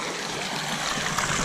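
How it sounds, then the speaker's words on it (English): Small river stream flowing through a city park in Austin, Texas, a steady broadband rush of water running close by without pause. "small little river over here like that"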